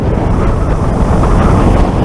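Strong wind roars steadily into the microphone, a loud, unbroken low rumble with no voices.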